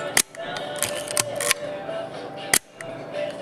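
Leica M3 rangefinder camera shutter firing at 1/1000 second, with several sharp, close mechanical clicks spaced irregularly, including one loud snap, over faint handling noise and no talk.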